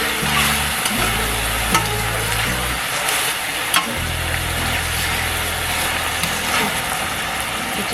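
Sausage fries with oyster sauce in a pan, a steady crackling sizzle with a low background hum and occasional clinks of a utensil against the pan.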